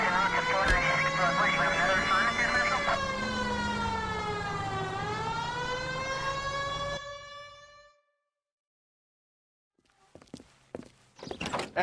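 An LAPD police car siren in a video game wails loud and close, its pitch sweeping up and down for about seven seconds before cutting out. A short silence follows, then scattered footsteps and clatter.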